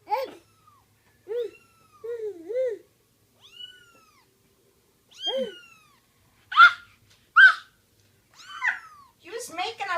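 Kittens meowing in a series of short, high-pitched mews, some plaintive and rising, scattered irregularly across the clip at close range with quiet gaps between calls.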